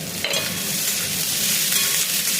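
Green chillies and tomatoes being stirred through frying vegetables in a pan: a steady close sizzle with soft scraping and shuffling of the spoon throughout, no voices.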